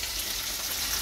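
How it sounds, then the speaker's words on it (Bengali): Small khoira fish frying in hot oil, a dense, even sizzle close up and unbroken for the whole brief moment, with no voices. "আর এদিকে খয়রা মাছগুলো ভাজা হচ্ছে।"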